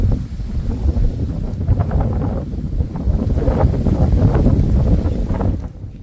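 Wind gusts buffet the microphone at a house construction site behind a bungalow under work, a loud, continuous low roar that swells and dips without pause.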